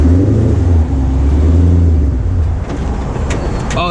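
A garage-built C5 Corvette race car pulls away in first gear, its loud, close engine drone steady and strong at the start and easing slightly as the car gets moving, with a brief higher whine near the end.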